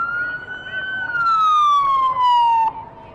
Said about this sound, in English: police department siren.